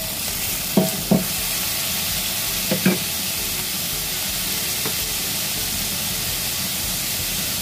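Bitter gourd and onion stir-fry in a pan under a loud, steady hissing sizzle, with a few distinct utensil knocks near the start.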